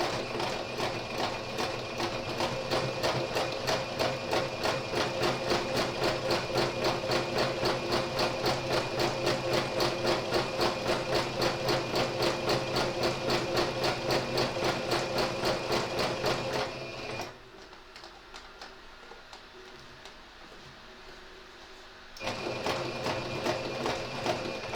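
A sewing machine runs steadily with a fast, even mechanical whir and stitching rhythm, pauses briefly into near quiet, then starts up again.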